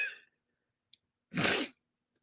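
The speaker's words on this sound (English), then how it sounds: "I feel like I got to sneeze." A single sharp sneeze bursts out close and loud after a moment of quiet, preceded by a faint breath.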